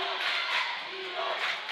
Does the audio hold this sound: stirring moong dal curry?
no